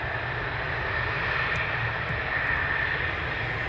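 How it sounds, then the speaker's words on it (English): Lockheed F-35 fighter jet at RAF Lakenheath, a steady broad engine roar held at a constant level throughout, with a faint high whine running through it and no voices. "Alright, enjoy the F-35s, guys."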